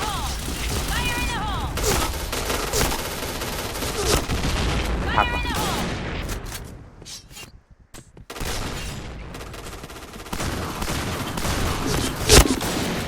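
Gunfire fills a match in the video game Point Blank, with rapid bursts of shots and mechanical clatter that is loud and dense. A brief lull is followed by more firing, and a voice talks over parts of it.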